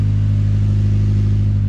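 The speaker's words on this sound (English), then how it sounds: "Pretty quiet exhaust." A 1996 Honda Civic with a turbocharged D16Y7 engine and quiet exhaust idles, giving a steady, loud, even drone with a low throbbing pulse and no speech.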